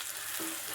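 Chicken curry sautéing in a pan gives a steady, soft sizzle with a brief stir partway through, close and alone with no voices.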